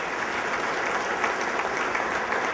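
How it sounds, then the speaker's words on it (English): Steady, dense applause from a seated crowd at a St Patrick's Day lunch, an even wash of many hands clapping continuously at a moderate distance with no voices standing out. "And now you can give her a round of applause."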